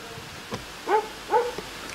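Dogs barking and yelping during a 1994 holiday in Bruton, Somerset, two short yips close together in the middle of an otherwise quiet outdoor moment, no talk over them.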